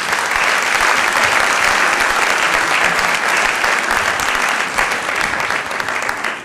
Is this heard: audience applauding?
yes